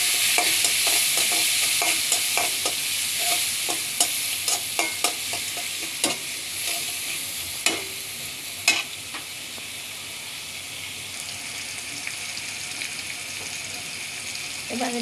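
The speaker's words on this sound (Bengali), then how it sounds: "এখন পেঁয়াজ কুচিটা দিয়ে দিচ্ছি।" Chopped onion frying in a pan for a fish-head murighonto, constant sizzle with frequent sharp spatula scrapes and taps, close and steady, and no voices.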